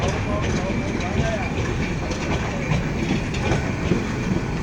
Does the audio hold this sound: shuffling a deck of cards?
no